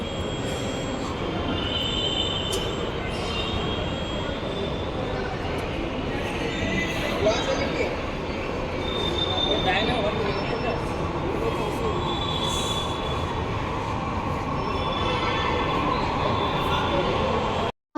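A metro train rumbles past with a steady low roar and faint wheel squeals, continuous throughout with muffled voices beneath.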